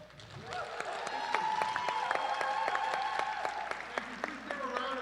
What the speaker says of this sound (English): Applause to the candidate and this panel.